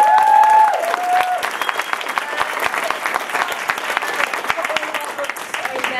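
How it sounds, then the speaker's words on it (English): Enthusiastic applause from an audience at an indie author panel at a festival, dense clapping that starts over a voice and continues steadily, with some cheering mixed in. "Can we have a big round of applause for these?"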